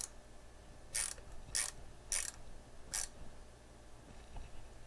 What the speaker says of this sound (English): And what you want to do is tighten these down. Tighten them all down.